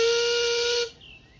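A steam engine's whistle lets off one loud, steady, high blast that holds for nearly a second and then cuts off abruptly, leaving faint quiet behind.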